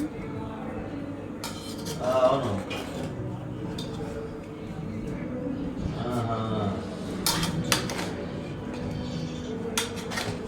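A spoon scrapes and clinks against a pot while chicken biryani made with basmati rice is mixed in from the side, with light irregular knocks over a steady background hum and a voice faintly present.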